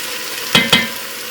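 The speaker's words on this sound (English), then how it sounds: "And we need to brown 1 pound of hamburger." A pound of 93% lean hamburger browns in a little oil in a pan. A constant frying hiss is broken by two quick, sharp clicks close together.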